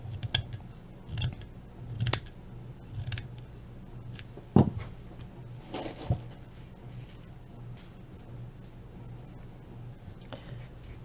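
Scissors snip through paper while trimming a shabby chic craft tag, a few soft, close clicks and crisp cuts spaced irregularly over low background hum.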